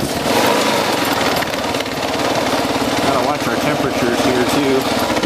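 A Kawasaki KLR 650 motorcycle engine churns loud and close with a rough, pulsing drone as it is revved while the clutch is feathered, under wind noise and a voice talking.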